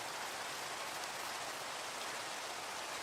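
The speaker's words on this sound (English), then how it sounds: "We don't need rain." Steady rain in a farming video game falls as a dense, even hiss that stays constant and fairly soft throughout, with no voices.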